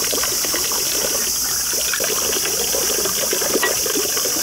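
Water runs steadily at a Kasuga-taisha shrine washing basin in Nara, Japan, a continuous close trickle and splash that carries evenly throughout without any talk over it.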